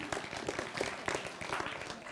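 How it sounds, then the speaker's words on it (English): Audience at a spring convocation applauding together, a steady mixed clatter of many hands at moderate level through the whole moment, fairly distant and without speech over it. "Give yourselves a round of applause."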